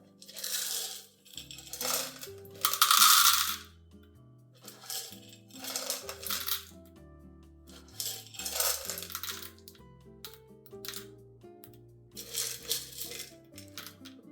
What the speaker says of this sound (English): I'll weigh 18 grams of beans and then put them into the grinder.